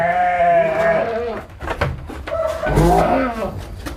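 A goat being injected because it is unwell bleats loudly and up close, one long wavering cry, then a scuffling pause, then a second strained bleat, with handling noise around it.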